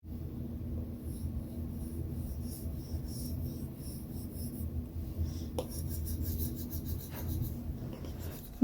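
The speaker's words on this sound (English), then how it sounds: "when you write with a stylus, it sounds like you're writing on paper" A stylus writes on an iPad screen protector with a papery, scratchy rubbing that continues steadily, close and fairly quiet, with a couple of sharper taps near the end.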